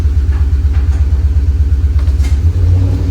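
A 2018 Toyota Tacoma with a V8 swap, four-wheel drive, sits running close by with a loud, deep, pulsing idle rumble that lifts slightly toward the end as it is held in gear.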